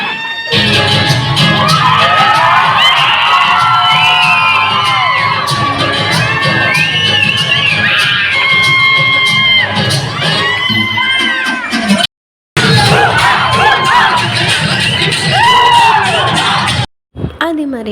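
A large crowd screams, whoops and cheers for a Megastar dance performance during a Vizag trip, loud and constant with shrill children's voices, cutting out twice for a moment.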